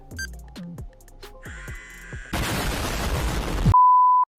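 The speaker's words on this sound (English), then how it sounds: "a timer will go off, and once it counts down from 5, it locks" A timer lockbox counts down and locks with a series of short electronic beeps, then a burst of loud noise and a final sustained tone as it engages.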